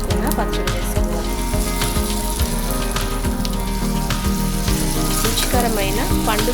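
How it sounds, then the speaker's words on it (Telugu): Ground red chilli and brinjal chutney frying in hot tempering oil, a loud continuous sizzle close by with scraping stirs and spoon knocks running throughout. "ఫ్రై అయిన తాలింపులో మనం ముందుగా నూరుకున్న పచ్చడి వేసుకోవాలి."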